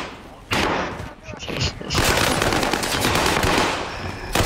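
Rapid automatic gunfire rattles in dense, loud bursts during a battle-royale tournament match in the Rebirth mode, with excited players talking over the shooting.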